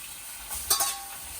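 A kilo of mincemeat and onions frying in a pan gives a low steady sizzle, with a brief scraping stir rising in the middle before it settles again.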